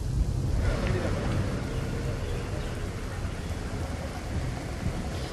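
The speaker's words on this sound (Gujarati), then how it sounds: "વહેલી સવારથી જે વરસાદ વરસી રહ્યો હતો" Heavy monsoon rainfall pours down in Ahmedabad, a dense, steady roar of rain that stays loud and continuous throughout.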